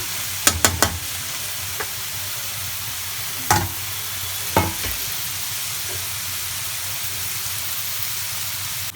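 Steady soft sizzling of bathua greens frying in a pan, with a few sharp clatters of stirring near the start and two more midway.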